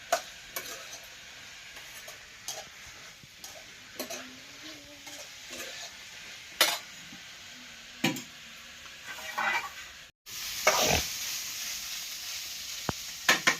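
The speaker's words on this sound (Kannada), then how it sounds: "ಸ್ವಲ್ಪ ಎಣ್ಣೆ ಅದು ಹಾಕಿನ ಜಾಸ್ತಿ ಹುರ್ತಂದ್ರೆ ಸ್ವಲ್ಪ ರುಚಿ ಜಾಸ್ತಿ ಕೊಡ್ತಕ್ಕಂತ ನಾನು ಎಣ್ಣೆ ಹಾಕಿ ಮುಂಚೆನೇ ಹುರ್ಕೊಳಕತ್ತೀನಿ" Vegetables fry in oil in a pan for palya, a quiet steady sizzle broken by scattered stirring clatters and scrapes, a louder burst of frying near the end, and no talking.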